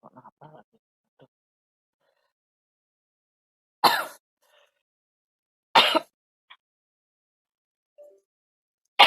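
A lecturer in a mathematical statistics class gives two loud, harsh coughs or throat-clears about two seconds apart, with a few faint small noises between them in an otherwise quiet room.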